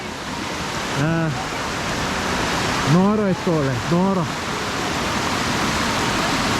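A waterfall roars in a steady, broadband rush throughout, close and loud, while someone speaks excitedly over it in a few short bursts.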